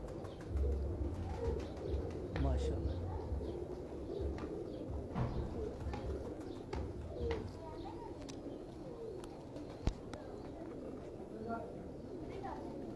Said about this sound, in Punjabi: ਉਸਤਾਦ ਜੀ ਕਬੂਤਰ ਛੋੜਤੇ ਵੀ ਆ ਜੋ